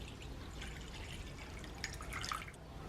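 Lukewarm water is poured into a bowl for pizza dough, a faint trickling and dripping stream close by that splashes a little more toward the end, with no one speaking.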